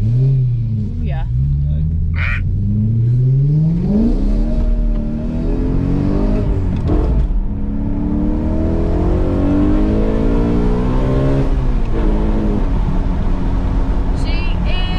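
A BMW F80 M3's engine revs and accelerates through the gears, its loud rising and falling drone holding steady for the whole stretch while people talk over it.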